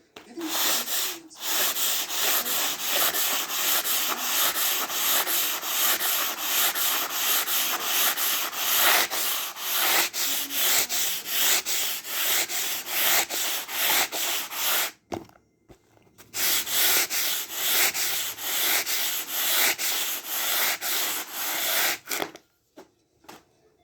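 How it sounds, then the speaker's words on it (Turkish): Continuous harsh rhythmic scraping of an oilstone rubbed back and forth on sandpaper to flatten it, with two short pauses near the end. "yağ taşı düzeltme işlemi"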